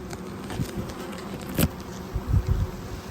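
Honey bees buzz during removal of a hive, a close, steady insect drone with a few faint knocks and handling sounds and no voices.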